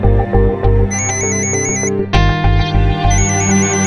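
A mobile phone ringtone plays in a repeating melodic pattern of bright electronic tones, loud and close, with no voices over it.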